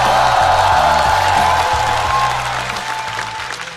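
Loud applause and cheering from a studio audience at a Chinese stand-up comedy show, a dense steady wash of clapping with a low musical bed beneath, slowly tapering off toward the end.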